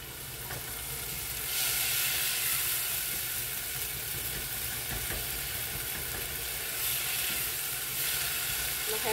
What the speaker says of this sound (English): So I'm going to cook the veggies down a little bit.